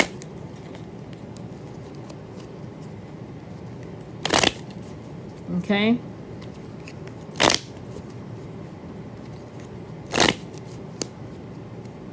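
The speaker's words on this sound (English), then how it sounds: "Shuffling." Tarot cards are shuffled in a few short, sharp riffles and snaps spaced several seconds apart over a quiet room hush, with one brief spoken word.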